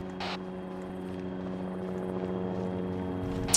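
A helicopter in the military shooter ARMA 3 drones steadily with a low rotor thrum and engine hum, close and constant throughout, with a couple of brief sharp clicks at the start and end.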